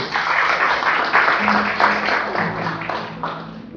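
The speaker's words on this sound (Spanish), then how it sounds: "¿Cuántos le dan un aplauso a Dios si usted lo cree así?" Scattered applause from a church congregation, moderate and uneven, with some voices and a low tone mixed in.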